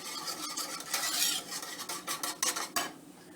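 Sugar being stirred in a pan with a utensil for a strawberry custard dessert, a steady scraping and clinking of metal against the pan that rises and falls in short bursts, close and fairly quiet, with no voices.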